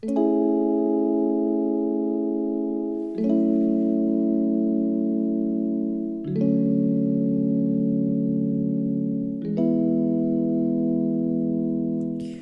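Four sustained chords play in sequence, each struck and held for about three seconds, with a smooth, soft, EQ-processed synthesized piano tone for an 80s-style lo-fi track.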